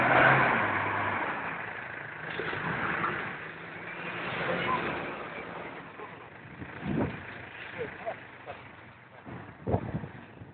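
A 4x4 engine turns over and runs with a muffled rumble, swelling in a few short revs, heard a little distant.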